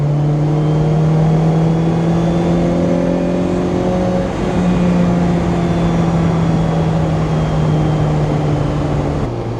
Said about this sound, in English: The car sounds like it has a supercharger